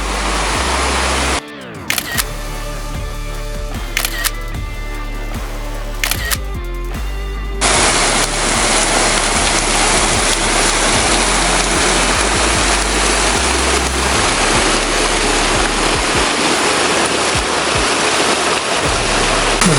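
Mountain waterfall on the GR20 in Corsica pouring into rock pools, a loud, continuous rush of water close by that cuts out briefly near the start, with a few clicks before it steadies.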